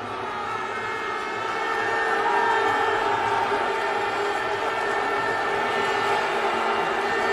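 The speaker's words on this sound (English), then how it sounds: "Crowd responds again." A cricket stadium crowd at a Pakistan versus Australia match sends up a sustained, distant roar that swells slightly and holds steady, a broad wash of many voices with no commentary over it.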